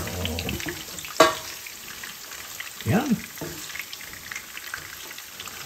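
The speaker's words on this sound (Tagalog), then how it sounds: "Ito naman po naprito sa sariling mantika pero hindi po nilalagyan ng tubig" Longganisa shaped meatball-style frying in its own fat with no water added, a steady soft sizzle and crackle running throughout, with a brief clatter and a few spoken words over it.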